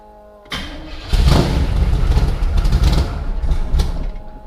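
A just-bought vehicle's engine cranking over and catching, then settling into a loud, close, rumbling idle with uneven pulsing revs, no talking.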